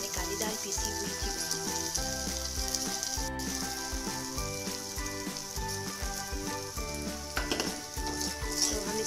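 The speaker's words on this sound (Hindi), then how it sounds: "तो हम इसको अच्छे से भूनेंगे कि इसका जो टेस्ट है वो अच्छा टेस्ट आए" Ground black lentils frying in a pan for a Pahadi kali dal dish, a constant hiss of sizzling oil with rhythmic scraping and stirring strokes, close up and steady throughout.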